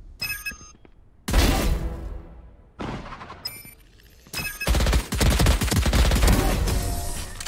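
Gunfire in Valorant from a gun holding eight rounds: sharp bursts of shots sound in separate clusters, with short quiet gaps between them and a longer sustained volley toward the end.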